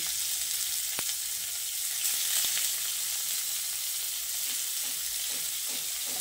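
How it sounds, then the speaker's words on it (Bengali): Chopped medium onions hit hot oil where cumin seeds have just fried, giving a soft, steady sizzle with a few faint clicks of a spoon against the pan. "পেঁয়াজটা দিয়ে কিছুক্ষণ ভেজে নিচ্ছি।"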